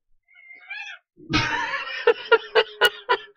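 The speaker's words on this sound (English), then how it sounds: "Oh no, the cat's here." A cat in a game of Kerbal Space Program gives a short, tonal, meow-like call, then after a brief pause comes a longer, noisy vocal burst followed by a run of sharp, rhythmic laugh-like pulses.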